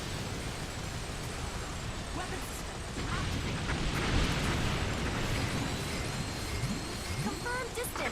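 Explosions from a bomber air raid in a combat video game, a loud, continuous rumbling barrage of blasts that swells and stays heavy throughout, with voices talking over the action.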